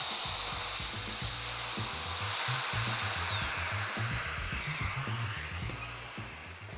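A domino joiner cuts mortises into a plywood panel in a workshop, its motor whining steadily while short, pulsing plunge cuts chatter in an uneven rhythm close by.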